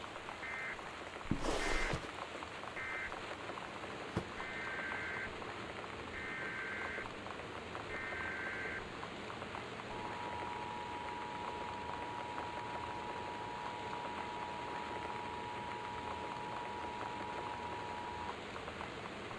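Steady torrential rain in the video game Gone Home, a soft continuous wash under a series of electronic alert beeps and a long sustained tone, with a brief louder rustle near the start.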